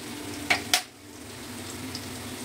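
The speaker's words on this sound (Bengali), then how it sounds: "এই যে আলুটাকে ভাজছি ভালো করে ধুয়ে" Washed potatoes fry in a pan with a low, steady sizzle. Two quick clacks of a utensil come near the start, then the gentle frying carries on alone.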